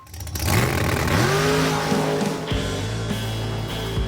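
A 1967 Chevrolet Nova street-outlaw drag car revs hard and loud up close, engine climbing in pitch with a rough idle burble between blips, no talk.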